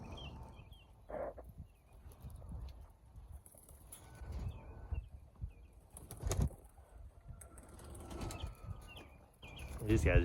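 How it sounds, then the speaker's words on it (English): Pigeons in a flock, with soft coos and bursts of flapping wings near and around, mixed with shuffling and scattered thumps, and someone talking faintly in the background. "This flock is going up pretty strong."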